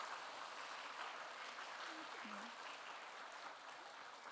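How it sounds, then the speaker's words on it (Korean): A church congregation applauds at a spring revival service, a steady, fairly faint wash of clapping that continues throughout with a brief voiced sound in the middle. "보통 이렇게 얘기한다고 박수 또 치는 교회는 별로 없거든요"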